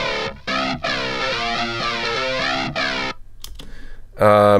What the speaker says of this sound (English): So this is the phaser intro track thing.